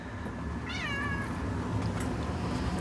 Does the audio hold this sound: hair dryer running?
no